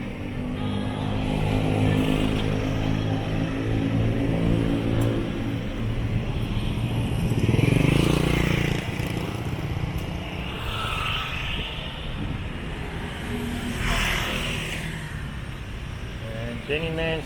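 Motorbikes and tuk-tuks fill a Chiang Rai street with a continuous rumbling engine drone, one vehicle swelling louder as it passes close by midway, with faint voices in the background.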